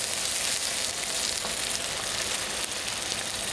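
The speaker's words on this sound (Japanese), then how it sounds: "ここで分量のお水を入れます" Water poured into a hot pan for Ghanaian jollof rice over high heat sets off a loud, steady hiss and sizzle that holds evenly throughout, close by with no talk.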